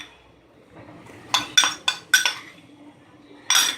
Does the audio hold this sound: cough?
no